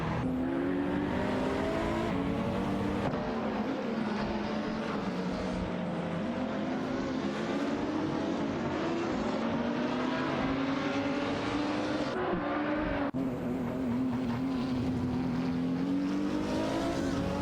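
Race car engines from an AI racing video game, including a Renault Sport RS1 GT3, drone loudly and continuously with rising and falling revs as cars jostle for position, with no talk over them.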